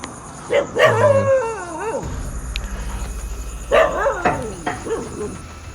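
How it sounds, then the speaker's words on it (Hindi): A dog barks and yelps in short bursts at night near a tiger reserve, with rising, whining cries, two clusters separated by a quieter gap, and fairly close. "कुत्ता कंटिन्यूस भौंके जा रहा है"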